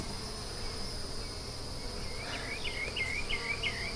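Honey bees at a backyard hive in a large home apiary, a steady close insect hum with a brighter buzzing whine weaving through the last second or so, no talk.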